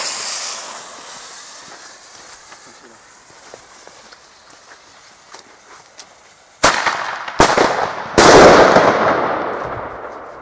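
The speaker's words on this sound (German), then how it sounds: "Flashbang" A flashbang grenade goes off outdoors. Sharp, loud blasts crack out in quick succession, each followed by a rolling echo. Faint voices and movement can be heard before the bangs.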